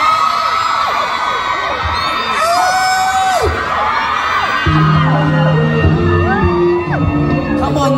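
A large crowd screaming and cheering loudly at a concert at Siam Paragon, Bangkok, with shrill shrieks and whoops rising over a dense roar.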